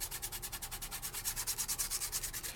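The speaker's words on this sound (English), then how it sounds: "Take your finger, do a little bit of a burnish." Fingertip burnishing loose glitter onto a paper craft surface, a quick rhythmic scratchy rubbing with steady back-and-forth strokes, close up and fairly soft, no voices.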